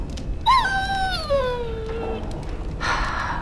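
A dog in Dragon Age: Origins lets out a long, falling whimpering whine, close and fairly loud, followed by a brief softer rustle.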